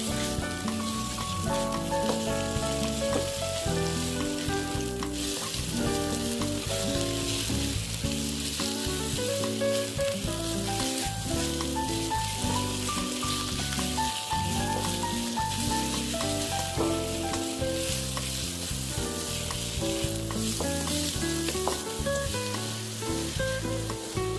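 Minced pork being dry-fried in a pan with no oil for Thai basil pork, a loud, continuous sizzle heard alongside steady melodic music.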